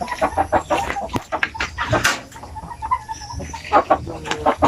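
Basilan native chickens on a farm in Mindanao cluck and squawk in busy, overlapping calls, close and moderately loud, with rustling in the background.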